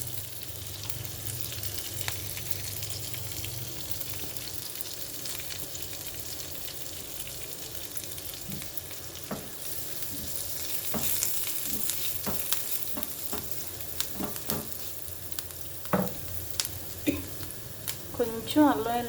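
Cabbage and carrot frying in a pan, with a continuous close sizzle and growing clicks and scrapes of stirring toward the end, with a voice speaking over it.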